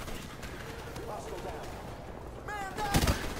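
Rapid bursts of LSAT light machine gun fire with a round drum in Call of Duty: Modern Warfare Remastered, a rattling, battle-filled din with a voice talking over it.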